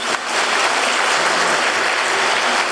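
A church congregation claps after a special song during Sunday worship: loud, dense applause filling the room, close and sustained for the full few seconds with no talking.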